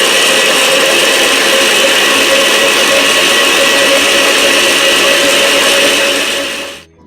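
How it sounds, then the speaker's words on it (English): A blender whirs a smoothie at full speed, a loud, steady high-pitched motor roar running alone for several seconds before cutting off abruptly at the end. "put this in the blender."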